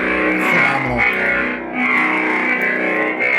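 A Nerfherder Customs lightsaber hilt hums loudly and continuously, a buzzy distorted drone with swelling clash-like surges and a brief dip midway, heard alone with no talk.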